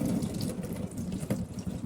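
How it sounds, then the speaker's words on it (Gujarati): Cold tap water runs over vegetables in a kitchen sink, a soft, continuous splashing and trickling stream at close range. "સો ક્લીન અને વોશ કરી દઉં હવે કોલ્ડ વોટરથી"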